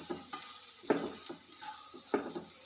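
A spoon stirs coriander powder in a pan while making egg roast masala. Several distinct scraping strokes sound at uneven intervals over a soft, continuous sizzle, heard close and alone.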